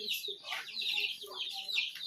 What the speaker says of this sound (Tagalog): Ayan, mayroong mga alagang manok.